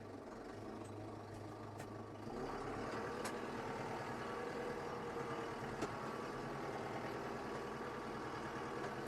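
A SADIN 904 tractor runs in low fourth gear, a steady mid-pitched engine drone that rises slightly in load after a couple of seconds and holds evenly, with no talking.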